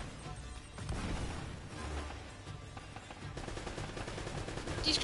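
A mounted machine gun in Uncharted: Drake's Fortune fires rapid bursts that sound faint and distant under steady game background noise.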